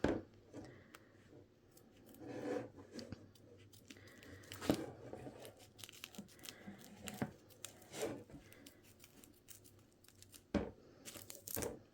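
Scissors snip close along the satin stitch line of an in-the-hoop embroidered coaster, giving scattered crisp cuts and papery crunches at an irregular pace, near and fairly quiet.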